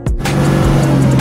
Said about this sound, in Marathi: पुढे अर्जनी ही गाडी चालली आता